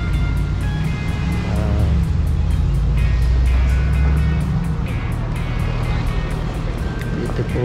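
A car drives past along Kings Road in Chelsea, London, a steady loud engine and tyre roar close by that fills the whole stretch without fading.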